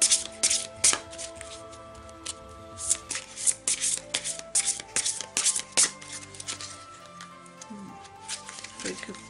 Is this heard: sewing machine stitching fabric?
no